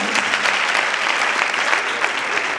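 Audience at a convocation ceremony applauding to welcome a teacher, a continuous wash of many hands clapping, even and moderately loud with no break.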